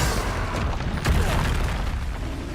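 A Bombarda explosion spell cast in Hogwarts Legacy, a loud booming blast with rumbling debris over dense game noise and music, one sharp hit about a second in, no talk.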